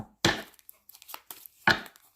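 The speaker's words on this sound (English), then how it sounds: "Let's shuffle these cards" Two sharp, brisk riffling bursts of cards being shuffled, close up, with softer taps and rustles in between.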